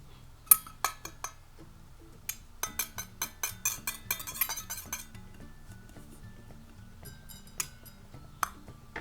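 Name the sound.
whisking an egg in a bowl (play-dough pretend cooking)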